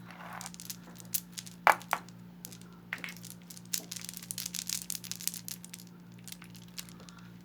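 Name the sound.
jewelry pieces clanked together to test acrylic or glass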